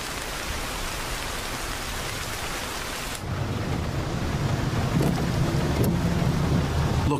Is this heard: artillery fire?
no